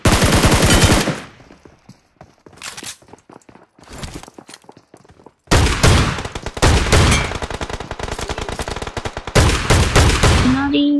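Rapid automatic gunfire in a shooter video game comes in loud, dense bursts, with a quieter stretch of scattered single shots and footsteps between them before sustained firing resumes, all close and forceful.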